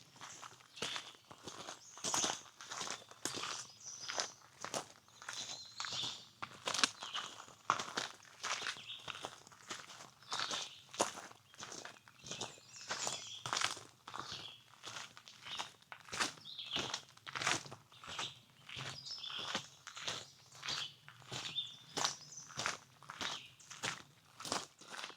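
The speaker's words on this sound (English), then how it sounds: "enjoy the sounds of the forest for a few minutes here as we walk up" Steady footsteps crunch along a forest fire road on the climb up Old Rag Mountain in Shenandoah National Park, regular close steps on gravel and leaves over a faint woodland background.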